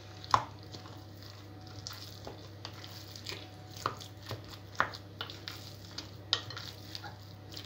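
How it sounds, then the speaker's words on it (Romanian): A spoon stirs a meatball mixture in a bowl, giving soft wet squishing strokes and occasional light knocks against the side at an uneven rhythm. A low steady hum runs underneath. "Amestecăm puțin."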